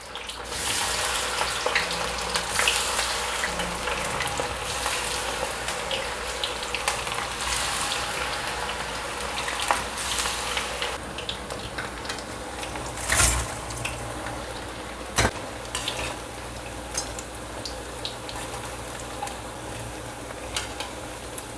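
Sweet potatoes and white broccoli fry together in a pan, giving a steady close sizzle and hiss throughout with a few sharper crackles and pops, no voices.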